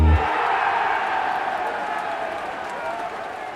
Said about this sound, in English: big round of applause for my next guest